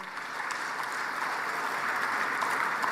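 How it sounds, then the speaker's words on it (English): Steady crowd applause from an audience at an event in Tanzania honouring a Click Gas System LPG delivery innovation, a dense continuous clapping wash lasting the full few seconds with no talk over it. "Let's give him a round of applause"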